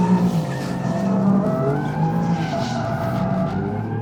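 A 2024 Alfa Romeo Giulia Quadrifoglio, a 500-horsepower rear-wheel-drive sports sedan, roars loudly on throttle while its tires skid and squeal continuously, the engine note rising and falling throughout.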